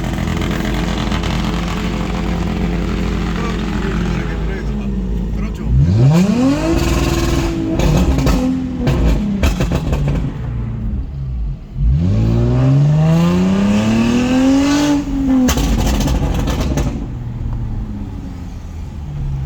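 A Toyota 2GR 3.5-litre V6 exhaust revving hard twice, each pull climbing in pitch then cutting off, over a loud idle rumble close to the car.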